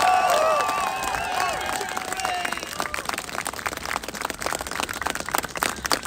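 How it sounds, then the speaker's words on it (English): Crowd applauding and cheering at an outdoor Ukraine support rally in Washington DC, a broad wash of clapping from many people with whistles and shouts early on, settling into scattered, uneven claps. "Big round of applause to all of you here."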